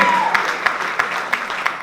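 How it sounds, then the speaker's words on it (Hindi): An audience at a trailer launch event for a streaming series bursts into brief applause, a close, lively clatter of clapping with distinct sharp claps standing out from the crowd. "वेलकम, जोरदार तालियां हो जाए।"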